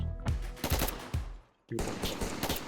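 Gunfire in a Roblox shooting game, rapid bursts of automatic shots up close, a brief pause, then a dense, continuous volley of shots.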